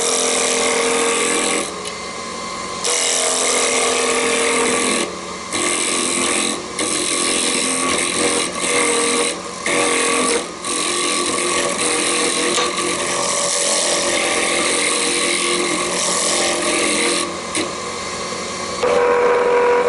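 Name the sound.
wood lathe turning chess pawn with sharp gouge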